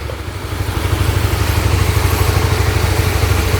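An RS150 motorcycle engine with a broken piston catches and settles into a steady, rhythmic idle, loud and close, with no voices.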